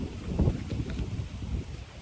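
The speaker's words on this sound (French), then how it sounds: "Il y a du vent." Wind buffets a microphone outdoors, giving a close, uneven low rumble with gusty swells that lasts the whole stretch.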